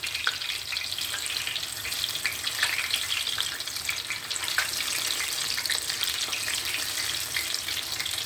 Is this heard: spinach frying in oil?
yes